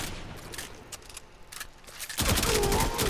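Rapid automatic fire from a Karak Wraith rifle in Warframe, a dense burst of gunshots that swells loud in the second half, with faint clatter before it.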